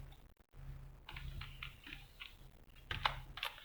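Quiet clicking of keys on a computer keyboard while writing code for a BMI calculator in HTML, CSS and JavaScript, a few short irregular bursts of taps at close range.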